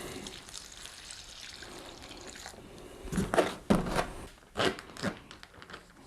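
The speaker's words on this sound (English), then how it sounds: "I'm just gonna take my solution, pour it into the bag." Liquid mite-wash solution is poured into a plastic bag holding honey bees for varroa monitoring, giving a few short splashing glugs with bag crinkling after a quiet start.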